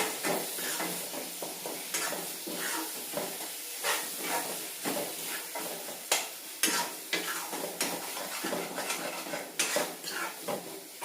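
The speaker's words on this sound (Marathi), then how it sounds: "चांगलं परतून घ्यायचं." A paste of roasted onion and coconut is stirred and sautéed in a pan, with steady sizzling and frequent scrapes and clinks of a spoon against the metal, close up and without talk.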